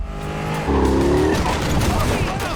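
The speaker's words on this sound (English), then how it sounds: "He tracks Vigo and his men as they head for a helicopter and rams his car into them." A car rams into men heading for a helicopter in an action film: a rising tire squeal and engine whine give way to a rough, noisy rumble of impact and scraping.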